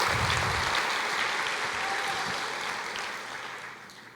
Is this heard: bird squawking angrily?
no